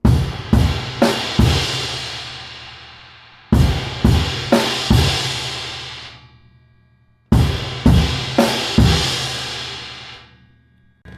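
Beginner drum kit variation pairing crash cymbal with bass drum, then crash with snare: three phrases of quick loud hits, each crash ringing out and decaying between phrases.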